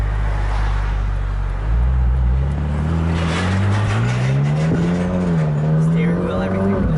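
A Ferrari 458 Italia on a test drive in New Jersey, its engine heard from inside with a smooth, loud drone that climbs in pitch as it revs up, then settles and swells again under acceleration.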